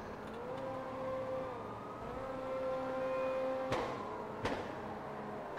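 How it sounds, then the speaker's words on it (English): A faint police siren from the game FiveM wails, rising and falling in the distance over a low engine hum, with a couple of sharp clicks near the end. "Oh, I can hear sirens."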